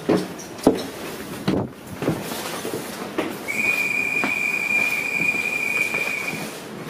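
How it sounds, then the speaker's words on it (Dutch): Rattling onboard sound of a Dutch passenger train heading to Enkhuizen, with rhythmic wheel clicks and thumps, then a sustained high-pitched wheel squeal over the rumble of the moving carriage. "nu zitten we in de trein naar Enkhuizen"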